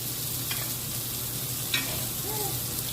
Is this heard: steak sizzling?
yes